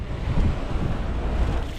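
Strong wind roars steadily across the microphone at sea in the West Philippine Sea, with the heavy wash of rough sea waves rumbling underneath throughout.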